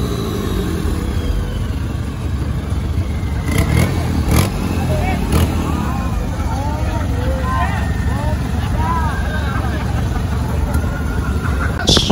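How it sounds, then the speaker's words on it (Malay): Engine of a 4x4 truck at a large off-road event in Malaysia, a steady loud rumble running throughout with crowd noise and people talking over it. "Nice kan guys bunyi kereta ni."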